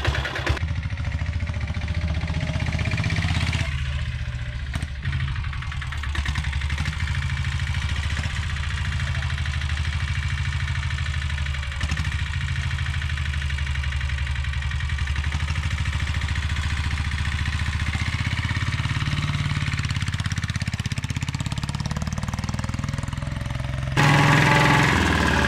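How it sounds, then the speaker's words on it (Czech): A unique diesel-engined motorcycle idles steadily up close, a low, chugging mechanical drone likened to an old village tractor, holding an even rhythm for the full stretch with a few small throttle changes. "Starý traktor na vesnici."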